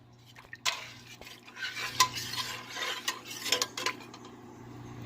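A spoon stirs milk with cashew and almond paste in a pot, giving close, irregular scraping and clinking strokes against the metal, with no voices.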